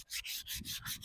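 Sandpaper rubbed back and forth over wood in five quick, steady strokes with brief pauses between, close and fairly loud with no voices.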